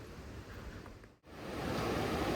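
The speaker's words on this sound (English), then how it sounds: "Coming across a river" A river on a hiking trail to Keiths Hut and Vantage Peak rushes in a steady broadband wash. The sound breaks off for a moment, then returns louder and nearer, with no voices.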